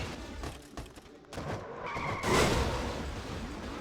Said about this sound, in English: it's Paul Minnick in the 10 car that spun